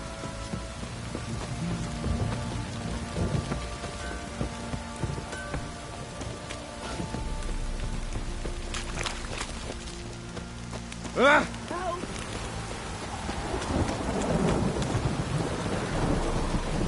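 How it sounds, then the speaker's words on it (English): Heavy downpour drums steadily over a low rumble, with a sharp thunder crack in the middle and the rain swelling louder toward the end; faint voices sit under it. "This downpour's a bastard, it is."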